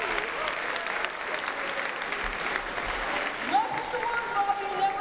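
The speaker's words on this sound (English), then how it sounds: "Give him a round of applause." Audience applauding Bobby at a student-athlete leadership summit, a steady wash of clapping throughout, with faint voices and a brief tonal sound near the end.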